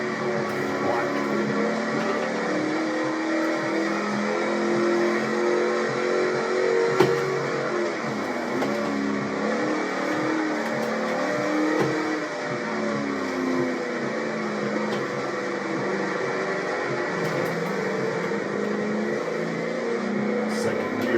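A P71 Crown Victoria engine in Forza Motorsport 7 at a rainy Suzuka, a steady droning hum with gentle rises and dips in pitch under continuous talk.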